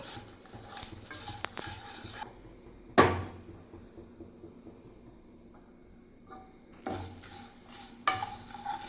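A spoon scrapes and stirs chilli and turmeric powder in a pan on a low flame while prawn pickle masala is being made, with a few louder clinks of metal against the pan and a quiet background hum.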